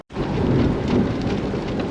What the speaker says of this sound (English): We got some heavier rain coming, and I think I just heard thunder.